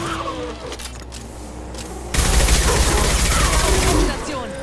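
Sustained gunfire in the video game Mass Effect 2, a dense burst of rapid shots that surges loud about halfway through and holds steady before easing off, layered over game ambience.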